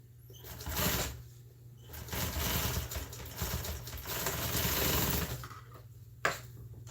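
An upholstery trim shop sewing machine stitches a car seat cover in fast, steady mechanical bursts, loud and close, pausing briefly between runs and stopping near the end.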